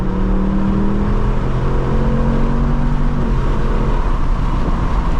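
A 2024 Ford Mustang GT V8 pulling steadily after a downshift to fourth gear, a loud sustained engine drone with rising harmonic tones heard from inside the car, no talk over it.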